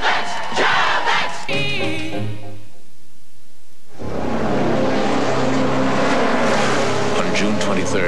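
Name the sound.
Mazda race cars at the Le Mans 24-hour endurance race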